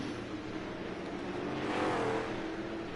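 Sprint cars rip around the high side at I-55 Speedway, a continuous loud engine roar that swells slightly as a car passes close, with no voices.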